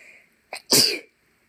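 A single sharp sneeze, preceded by a quick intake of breath, loud and close, with quiet before and after.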